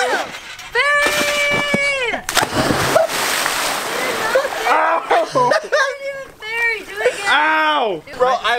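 A person belly-flops into a pool with a loud close splash, followed by sloshing water, while people shout and scream excitedly before and after the impact.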